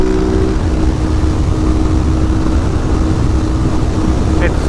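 A Husqvarna 701 motorcycle engine at around 150 to 160 km/h, a loud steady roar with wind rush throughout, close and continuous.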